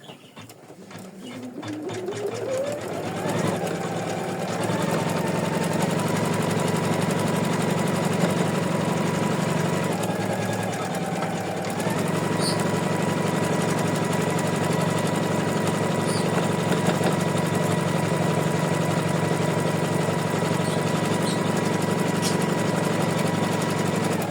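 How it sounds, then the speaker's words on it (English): An embroidery sewing machine stitches an in-the-hoop butterfly tag with variegated thread, giving a loud, steady mechanical whir that runs without a break after a short spin-up, with no voices. "So let's stitch with the variegated thread a little bit with you."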